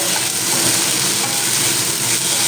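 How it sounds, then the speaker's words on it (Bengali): Onion, ginger and garlic paste frying in a pan for a soybean curry, a steady close sizzle with bright crackling that runs unbroken for the whole moment. "আবারও আমি পেঁয়াজ আদা রসুন একসঙ্গে কষিয়ে নেব"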